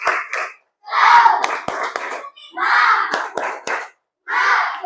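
Standing class repeating a 'tepuk semangat' rhythmic clap chant, with several bursts of patterned hand claps separated by brief silences and group voices chanting along.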